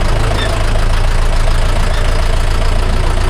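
A heavy tractor engine idles steadily and loudly, a continuous low rumble with a faint knocking rhythm throughout.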